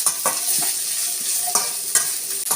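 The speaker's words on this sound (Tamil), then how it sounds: "எல்லாத்தையும் சேர்த்து ஃபஸ்ட் நல்லா வதக்கிட்டுருக்கோம்" Onions with curry leaves and green chilies sizzle steadily in a hot pan while a utensil scrapes and stirs them in repeated strokes, close up with no talking.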